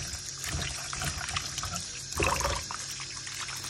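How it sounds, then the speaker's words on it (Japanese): Food being lightly rinsed under a running tap, water trickling and splashing steadily with a louder, fuller burst of flow partway through; no one speaks. "一回皆さんの元でも、水洗いを軽くしてください。"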